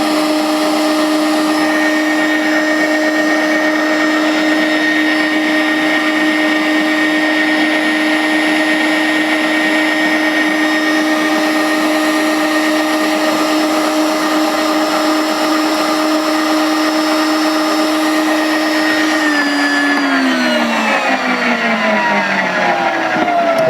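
WonderMix grain mill grinding flax into meal, a loud, steady motor whine with a constant tone that holds for about twenty seconds, then drops in pitch as the mill winds down near the end.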